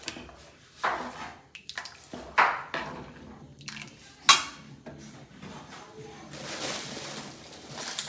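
A spoon stirs papaya and carrot pickle in a pan, making intermittent metallic scrapes and clinks with a few sharper knocks between quieter pauses.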